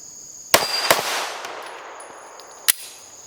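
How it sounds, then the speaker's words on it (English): Sharp pistol shots from a CR920 ring out at steel plates outdoors, two quick close cracks followed by a trailing ring, then a third shot after a pause. "I get my sights immediately and I can crack a shot."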